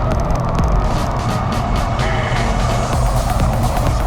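Engine and road noise from a Honda Civic driving, a steady loud drone with no pause throughout.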